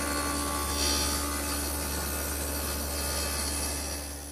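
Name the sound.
table saw with stacked dado blade cutting rabbets in wood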